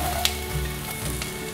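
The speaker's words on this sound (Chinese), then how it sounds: "快速的翻炒，炒至红萝卜变色， 现在放入青江菜的梗，" Carrots and bok choy stems stir-fried in a pan give a steady, close sizzle with a few sharp ticks of spatula on metal, no voices.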